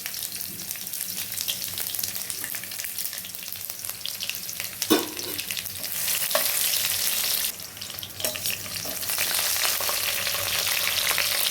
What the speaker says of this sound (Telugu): ఇదిగండి ఆయిల్ వేడెక్కింది. ఉల్లిపాయలు, జీలకర్ర, ఆవాలండి.